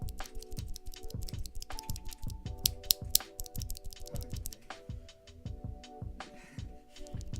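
Stock mechanical keyboard switches clack in quick, dense bursts of sharp clicks, close and fairly quiet, with brief pauses between runs of presses.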